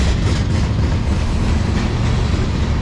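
CSX manifest freight train led by an ET44AH locomotive rolls past close by, a loud continuous rumble of rail cars with rhythmic clatter over the track.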